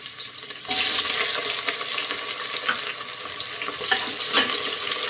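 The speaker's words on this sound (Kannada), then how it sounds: "ಇದನ್ನು 1-2 ನಿಮಿಷ ಫ್ರೈ ಮಾಡೋಣ" Onion frying in a pan gives a loud, steady hiss that swells in after a brief quieter start and continues close-up with small crackles and a few stirring scrapes.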